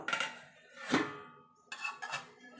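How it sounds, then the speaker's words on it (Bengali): A lid is set down on a cooking pot holding a vegetarian jackfruit curry, giving a few ringing metallic clinks and scrapes close by. "এবার এটাকে আমি ঢাকা দিয়ে মিনিট তিনেক চারেক এটাকে আমি রান্না করে নেবো"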